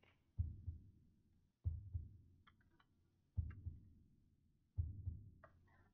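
A slow heartbeat plays in the Backrooms video game, four deep thumps spaced evenly apart, low and muffled, with faint higher ticks between beats and no speech.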